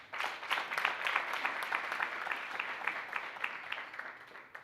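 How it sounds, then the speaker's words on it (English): A university audience at a book launch claps in a sustained round of applause to welcome visiting guests, steady dense clapping at moderate distance with no talking over it. "Let us welcome our TUT counterparts with a big round of applause."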